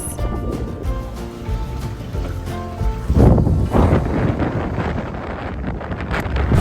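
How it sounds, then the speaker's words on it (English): Strong wind of around 20 knots buffets a sailboat in the Caribbean channel between Dominica and Martinique. A loud, rushing gust of wind noise rises partway through over a background of music. "So the wind pick it up a lot, it's like around 20 knots, 18, 20, 21 knots."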